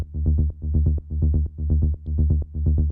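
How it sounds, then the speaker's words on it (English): Rolling synth bass line for a melodic techno track, a steady pulsing run of deep notes in repeating bars that step up and down, loud and alone with no voices. "You can see it's kind of a classic rolling bass line"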